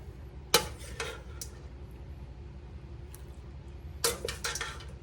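Shrimp Alfredo penne is stirred in a big pan, with a few metallic clinks and scrapes of a utensil against the pan over a low steady background hum.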